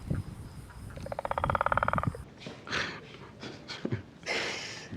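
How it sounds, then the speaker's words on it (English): A croaking, frog-like call used to command a xenomorph in the series Alien Earth: a rapid pulsing rattle lasting about a second, followed by breathy hisses and growling creature sounds. "Just make that stupid frog noise and the xenomorph will do exactly what it's told to."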